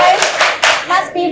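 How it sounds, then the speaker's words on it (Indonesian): A group of children performs a quick rhythmic clapping chant in a classroom, with sharp bursts of claps in a patterned beat mixed with their voices chanting along. "Tepuk sukses."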